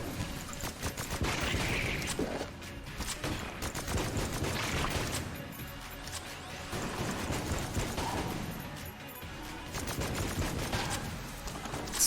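Rapid strafe gun fire in the video game Enter the Gungeon rattles on continuously, a dense stream of shots with brief dips, steady and fairly loud, with no voice over it.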